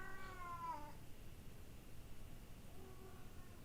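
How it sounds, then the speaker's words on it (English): A house cat calls for attention with one clear meow at the start, then a fainter, shorter cry near the end over quiet room noise. "My cat is crying right now."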